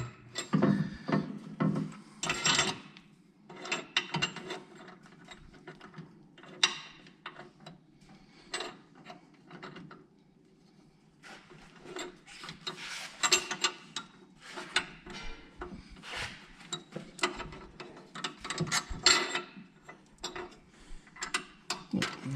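A ratchet tightens a bolt during a suspension install on a 1979 Silver Anniversary Trans Am, with bursts of quick clicking separated by pauses, close and moderately loud, along with occasional clanks of metal parts and no speech.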